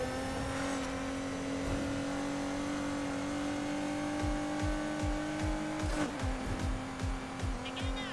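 An upgraded Ford Mustang engine in Need for Speed Heat roars at a steady high rev. Near the end it drops into a series of rhythmic, pulsing revs, loud and close.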